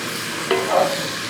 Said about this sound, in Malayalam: അതിന് ശേഷം ഒന്ന് ഇളക്കി.